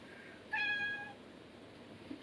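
A house cat gives a single clear meow, close and fairly loud, lasting about half a second against a quiet indoor background.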